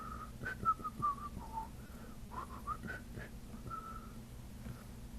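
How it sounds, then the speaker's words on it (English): A person whistles a song on a live stream: a clear, melodic run of short and held notes, fairly close, over a low steady hum with no talking. "if you're going to whistle on a live stream, you've got to pick the right song"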